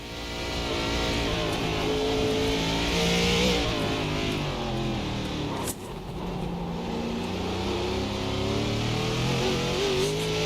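An ARCA race car in iRacing, its engine revving and droning steadily with rising and falling pitch on partial throttle, loud and continuous with one brief dip midway.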